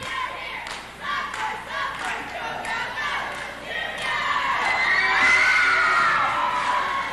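Crowd cheering and shouting at a 1986 seniors event, a steady wash of voices that swells louder partway through, with some thumps and a narrator talking over it.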